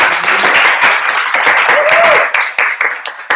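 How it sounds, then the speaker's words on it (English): A Toastmasters meeting audience breaks into a round of applause, loud dense clapping from many hands that thins out near the end. "give him a round of applause"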